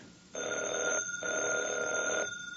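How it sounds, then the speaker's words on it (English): An old telephone bell rings in two bursts in a radio drama, a sustained electric trill with a short break between the rings, clear and fairly loud. "Evans, did that phone ring"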